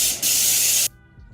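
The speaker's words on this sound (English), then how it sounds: "you should hear a sound effect of a spray can." A spray paint can hisses in one sustained burst of about two-thirds of a second, close and loud, then cuts off sharply into quiet.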